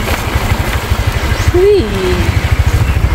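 A freshly washed motorcycle idles on a rough mountain trail, its engine thumping in a steady low pulse close by, while a voice calls out briefly over it.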